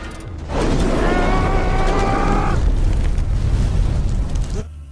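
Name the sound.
explosion in a film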